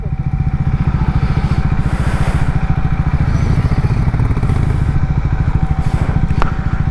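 A motorcycle engine runs close and loud with a steady, throbbing idle throughout, while the bike is being ridden over to a patch of shade to park on a hot roadside stop.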